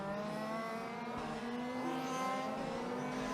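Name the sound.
large scale RC race cars driving past on track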